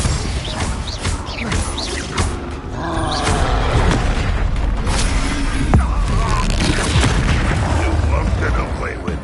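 Confringo fire-spell blasts in the video game Hogwarts Legacy go off as loud, dense, crashing booms and rumbling impacts, layered with clattering combat effects and a shouted voice throughout.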